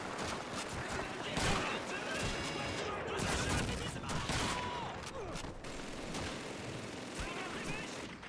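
Bolt-action sniper rifle fire mixes with dense gunfire across a World War II village siege in Call of Duty 2, loud cracks and distant volleys continuing throughout under a speaking voice.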